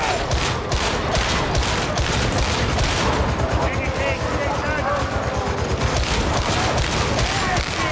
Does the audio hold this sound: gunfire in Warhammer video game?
yes